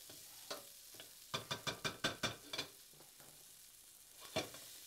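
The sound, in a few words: stirring tomatoes with garlic and olive oil in a pan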